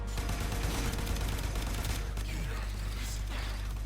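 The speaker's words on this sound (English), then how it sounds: "We just have to constantly shoot." Gunfire from shooting at a boss in Warframe runs as a continuous rapid stream of shots under a heavy, steady low drone, with no pause and no speech.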